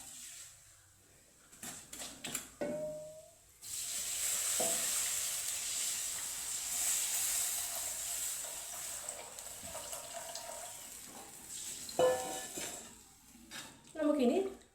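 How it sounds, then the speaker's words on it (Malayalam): Tamarind water poured into a hot pan while making rasam, a loud rushing sizzle erupts and hisses steadily for several seconds before fading, with clinks of a spoon and someone speaking before and after. "ഇനി ഈ പുളിവെള്ളം കൂടെ ഒഴിച്ചിട്ട്"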